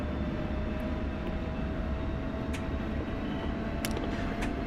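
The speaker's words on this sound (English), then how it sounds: "And we need to take off by back taxiing." A military jet back taxiing in a flight simulator game, heard as a steady, unbroken engine drone with a faint whine that holds at an even level throughout, with no voices.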